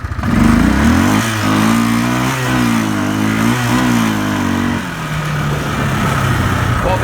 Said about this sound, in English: the takeoff on this thing in two-wheel drive is actually pretty good